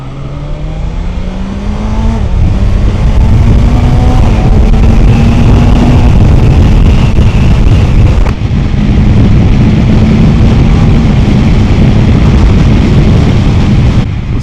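A 2026 BMW M1000XR motorcycle pulls hard on the throttle, a loud, continuous engine roar rising in pitch through the gears with heavy wind rush, heard close from the rider's position.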